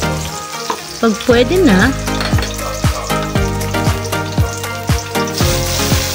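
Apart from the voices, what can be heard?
onions sautéing in hot cooking oil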